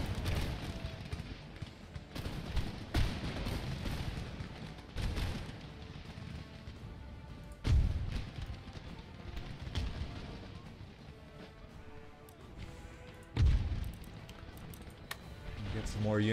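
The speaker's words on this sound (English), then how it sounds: "We can get the rest of our cannon firing." Cannon artillery in Empire Total War booms in scattered heavy blasts, with two especially strong thuds standing out over a busy battlefield din of smaller shots and clatter.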